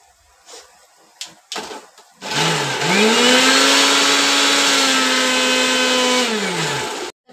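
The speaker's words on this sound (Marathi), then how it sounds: "मिक्सरमधून आपण बारीक करून घ्या थोडंसं." A kitchen mixer grinder blends spices into a paste: after a few short knocks it starts up into a loud, steady whirring grind for several seconds, then winds down and stops.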